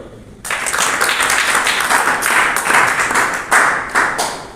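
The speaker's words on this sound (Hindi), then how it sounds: "शाबाश, तालियां बजाओ।" A group claps steadily and loudly at a drug-free-living session, a dense burst of applause that starts abruptly and carries on for a few seconds.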